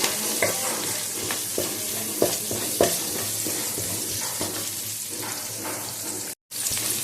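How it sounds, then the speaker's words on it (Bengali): Onion with chopped ginger, cumin and coriander powder frying in a pan, a continuous close sizzle with repeated stirring scrapes and clinks throughout, broken by a brief silent gap near the end. "পেঁয়াজটা একটু ভালো করে ভেজে নিই"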